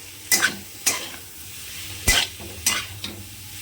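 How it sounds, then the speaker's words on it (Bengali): Boiled chicken is stirred in melted butter for a chicken salad, with about five distinct scraping strokes of a spoon against the pan over a faint sizzle, close up and without speech. "সেই চিকেনটাও এর মধ্যে দিয়ে দেব দিয়ে একসঙ্গে ভালো করে সব শুদ্ধ নাড়াচাড়া করবো"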